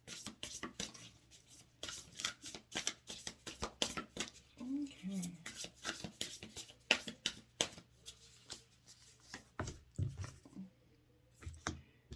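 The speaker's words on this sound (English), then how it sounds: "I'll give it another quick shuffle here." Rapid crisp flicks and riffles of tarot cards being shuffled, in repeated bursts, close up, with a soft voice briefly murmuring in between.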